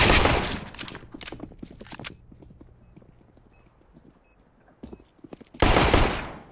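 Bursts of gunfire in the video game CS:GO, a loud volley at the start, scattered shots through the middle and another heavy burst at the end, with quieter game noise between.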